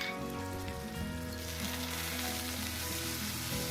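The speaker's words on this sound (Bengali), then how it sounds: "মশলাটা একটু ভেজে নিলাম।" Ginger, garlic and green chili paste fry in oil with onions, a continuous close sizzle with fine crackling like light rain, steady and fairly quiet with no talking.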